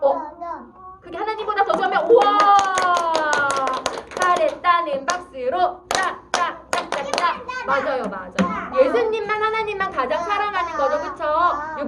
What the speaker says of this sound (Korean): 잘했다는 박수로